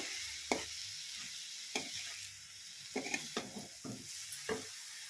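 Grated carrot frying in a pan with chilli powder and salt, a quiet steady sizzle broken by a series of close scraping stirs and soft knocks of the spoon, no talking.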